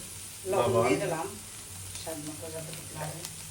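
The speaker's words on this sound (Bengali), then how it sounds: "এই যে চিংড়ি ভাজা হয়ে গেছে এখন আস্তে আস্তে মশলা দেবো" Fried shrimp sizzle in oil as spices are added, a moderate steady hiss behind short stretches of a voice talking.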